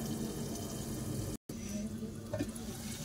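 Water pours steadily into a pan of brinjals sautéed in oil with a continuous splashing hiss, interrupted by a brief cut, then a few drips and clinks.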